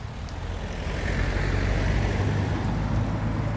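A car comes up from behind on an overcast country road, its low tyre and engine rumble swelling gradually from faint to a steady close roar, with wind noise and no talking.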